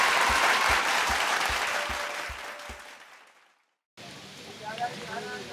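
Applause from an audience welcoming a band, loud and dense at first, then fading away to silence before a separate recording of softer mixed sounds begins.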